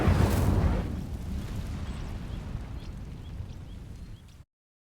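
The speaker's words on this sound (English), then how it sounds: "These dry vines are one spark away from becoming kindling. Incendio!" An Incendio fire spell from Hogwarts Legacy ignites dry vines with a sharp burst at the start, then a loud, steady crackling roar of burning that carries on for about four seconds before cutting off abruptly.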